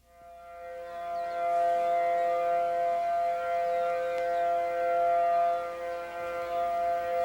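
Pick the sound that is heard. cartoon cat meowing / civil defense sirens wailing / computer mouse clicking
civil defense sirens wailing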